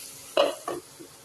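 Fish roe with raw mango frying in a pan gets two quick stirring scrapes, the first louder than the second, over a faint, quiet background.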